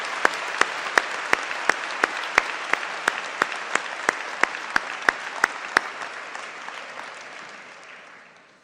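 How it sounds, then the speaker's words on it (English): Sustained applause from a crowd at a university engineering graduation ceremony for new PhD graduates, steady dense clapping with a few sharp distinct claps standing out, gradually fading away near the end. "Let's give a big round of applause to our new PhD graduates."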